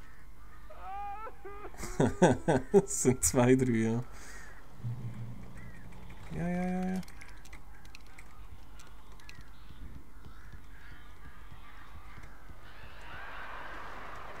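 Crows in Alan Wake give a burst of harsh, overlapping caws and squawks close by, followed by a few scattered calls; someone speaks briefly over them.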